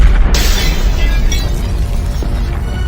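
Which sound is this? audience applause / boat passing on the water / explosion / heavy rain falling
explosion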